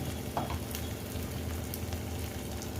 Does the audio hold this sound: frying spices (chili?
yes